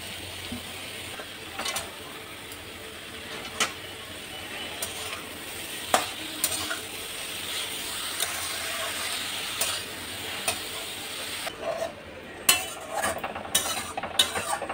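Fenugreek leaves drop onto boiled potatoes in a hot pan, giving a steady close sizzle with scattered scraping and clicking stirs, no talking.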